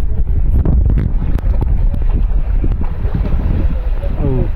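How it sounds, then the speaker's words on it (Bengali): Strong monsoon wind blows by a riverbank and buffets the microphone with loud, constant rumbling gusts. Splashing water and faint rustling sound underneath. "বন্ধুরা দেখেন ছাতি উড়ে যাচ্ছে বাতাসে।"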